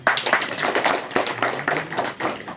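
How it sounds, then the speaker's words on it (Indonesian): An audience claps in a lively, fairly loud burst of many hands at an uneven rhythm that carries on for a couple of seconds. "tepuk tangan."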